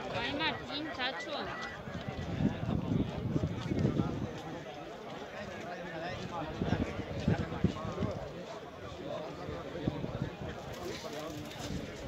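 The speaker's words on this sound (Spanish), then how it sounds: "Mira, ya están los caballos ahí." Horses' hooves clatter at a country bull run in Génave, Jaén, a rapid, muffled drumming of many hoofbeats that swells and fades, mixed with crowd noise and people talking nearby.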